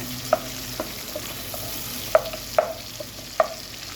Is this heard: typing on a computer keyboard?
no